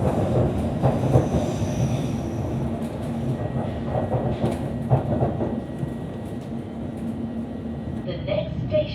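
A London Underground Hammersmith & City line train running between stations, a steady loud rumble with rail noise throughout and occasional clicks, under an announcement voice.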